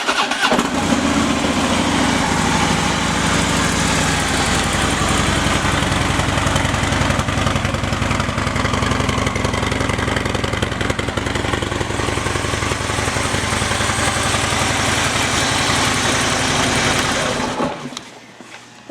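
A 2016 Harley-Davidson Street Glide Special with a Screamin' Eagle exhaust idles steadily and loudly up close, a deep continuous rumble with no talk, cutting off near the end.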